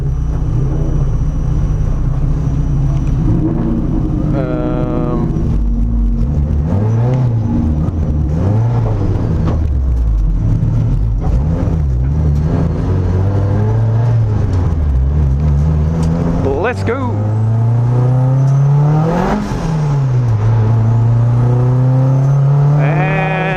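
Mazda MX-5 race car at a time attack event accelerating hard from the start, loud engine note climbing through repeated rising and falling gear sweeps, close and continuous throughout with no talk.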